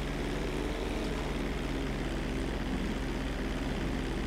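Airplane engine in GTA V during a runway takeoff, a steady, continuous propeller drone at moderate level throughout, with no talking.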